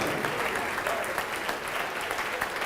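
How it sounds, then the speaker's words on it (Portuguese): A church congregation applauds continuously, a dense, even wash of clapping from many people that fills the space at steady volume throughout. "vamos aplaudir mais"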